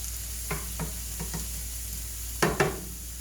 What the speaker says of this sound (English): I'm going to roast that garlic just a little bit